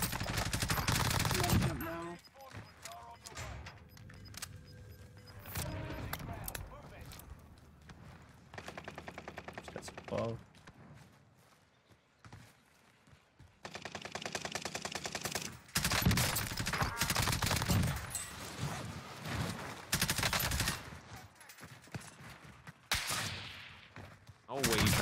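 Bursts of automatic gunfire in Call of Duty Warzone on Rebirth Island, with a LAPA submachine gun in play, crackle in rapid volleys separated by short quiet gaps, some loud and close, others softer, with occasional voices around them.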